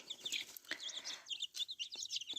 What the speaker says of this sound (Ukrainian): ось курчатка і каченята е, годуємо е, кукурудзяною мукою і пшеничною крупою